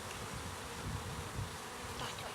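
Honeybees drone in a low, steady buzz during an open hive inspection, a dense swarm hum close by with no talking.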